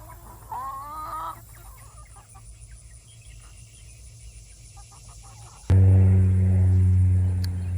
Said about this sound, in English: since we've got the chicks fed and watered